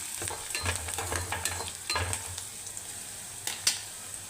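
Dried fish thokku sautéed with asafoetida in a pan, a spatula scraping and stirring in rhythmic strokes over a steady close sizzle, with occasional sharper clinks against the metal.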